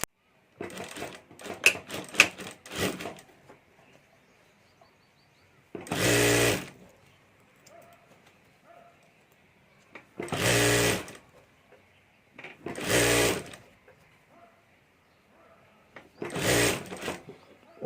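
A sewing machine stitches a zip onto a handmade handbag: a cluster of quick, rattling bursts near the start, then four separate loud runs of stitching spaced a few seconds apart, with quiet pauses in between.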